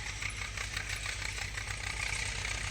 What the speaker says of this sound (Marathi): ट्रॅक्टरचा आवाज येतो, इकडं मशीन आहे मळायला